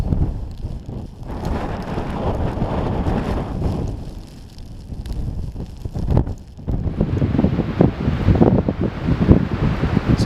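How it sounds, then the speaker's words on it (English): Strong sideways wind gusts across an exposed hillside on a Peak District walk, buffeting the microphone in a loud, continuous roar that swells and eases without any talk. "the pretty strong sideways wind that's driving into me at the minute"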